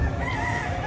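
Chickens at a busy market in Bocaue, a near rooster crowing and clucking in a brief burst amid general background noise.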